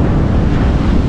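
Strong wind buffets the microphone on a beach in Ceará, a loud, continuous roaring rush with surf mixed in and no talk.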